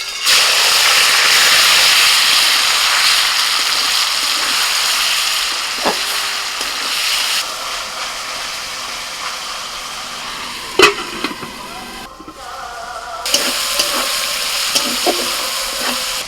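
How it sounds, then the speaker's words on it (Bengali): Marinated chicken drops into hot white oil in a wok, setting off a loud, dense sizzle that slowly settles, with intermittent stirring clatter and a few sharp knocks near the end. "কড়াইতে সাদা তেল দিয়েছিলাম, তেলটা গরম হয়ে গেছে। এখন ম্যারিনেট করা চিকেনটা দিয়ে দিচ্ছি।"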